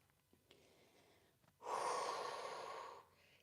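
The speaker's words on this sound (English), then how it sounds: "Keep breathing." Heavy breathing during a Pilates workout: a loud, sustained exhale lasting over a second follows a few faint breaths and small sounds, with no speech.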